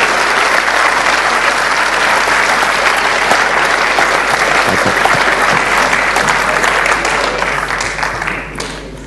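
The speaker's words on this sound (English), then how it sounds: "please can you give them a round of applause for their hard work choosing the two categories" Loud, dense audience applause at the 2011 JOSCARS award event, a steady wash of many hands clapping that continues throughout and fades slightly at the very end.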